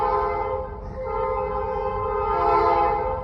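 An RBMN freight train in Ashland, Pennsylvania sounds its horn in a long, steady, loud blast that swells slightly near the end, with rumbling rail noise underneath.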